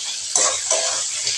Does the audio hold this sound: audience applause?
no